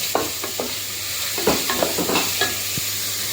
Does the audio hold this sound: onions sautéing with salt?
yes